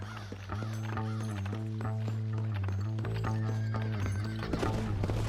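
Horses gallop in the Red Dead Redemption video game, their hoofbeats drumming under a loud, droning music score that runs throughout.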